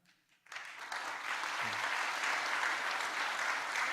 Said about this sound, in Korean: 다시 한번 힘찬 박수 올리겠습니다.